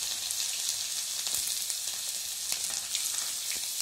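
Ginger garlic paste sizzling in hot oil with mustard seeds and cumin, a steady bright crackling fry with small pops, close and continuous with no voices.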